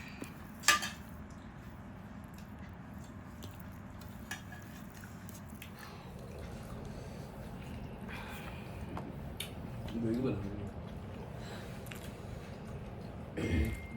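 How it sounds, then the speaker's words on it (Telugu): Spinach is stirred in a cooking pot, with quiet scraping and squishing under a low steady background and a few sharp clinks of a utensil against the pot spread across the stretch, near but faint. "ముందుగా పాలకూర కలుపుకుందాం"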